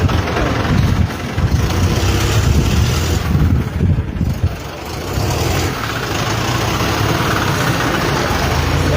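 A loud, steady motorboat engine drones nearby throughout on floodwater from the rising Dhadhar river, with a slight dip in the middle.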